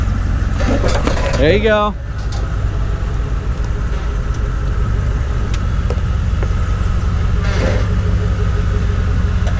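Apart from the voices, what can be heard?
Toyota 100 Series Land Cruiser engine crawling off-road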